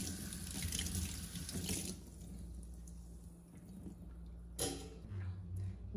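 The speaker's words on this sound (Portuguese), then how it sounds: "é só a gente lavar mesmo normal e secar" A Le Creuset pot being washed under a running kitchen sink tap: steady, close water flow with splashing surges as the stream hits the pot, no voices.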